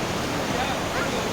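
Waterfall at a Kodaikanal-style falls where people bathe, with water diverted from an electricity scheme crashing down as a steady, loud broadband roar, with voices faintly mixed in.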